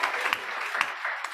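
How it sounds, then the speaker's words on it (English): Conference audience at an annual scientific meeting breaking into brief applause, a short dense wash of clapping. "Yes, we have to clap for that."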